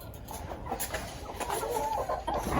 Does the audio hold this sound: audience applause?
no